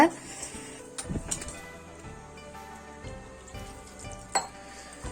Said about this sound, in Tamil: ஸோ நீங்கள் இந்த மாதிரி கிளறிட்டு உப்பு மட்டும் சரி பார்த்துக்கோங்க.